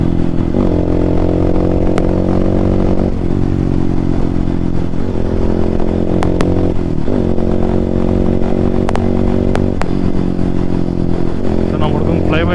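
A Hero Xpulse motorcycle fitted with a rally kit exhaust idles and revs in a loud, deep, throbbing rumble, rising and falling in waves, with clattering mechanical ticks and talk mixed in.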